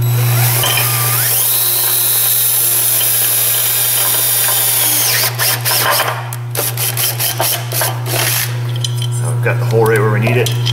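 A power drill whirs steadily for several seconds driving a self-drilling screw during a Chrysler Pacifica A/C condenser replacement, then stops, followed by clattering metal handling and a few short bursts of drilling close by.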